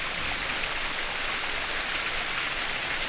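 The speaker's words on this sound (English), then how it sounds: "the Tillingbourne Waterfall." The Tillingbourne Waterfall at Friday Street in Surrey flows with a steady, close, broadband rush of falling water, constant and even throughout with no voices.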